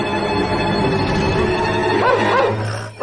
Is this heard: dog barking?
yes